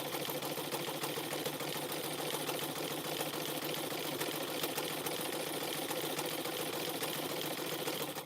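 A sewing machine stitching rope into tea cups runs in a continuous, even mechanical whir with a fast, fine rhythmic chatter, steady and moderately close for the whole stretch, no talking.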